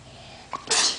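A single close, sudden sneeze from a child, a short inhaled catch followed by a loud burst, in an otherwise quiet room.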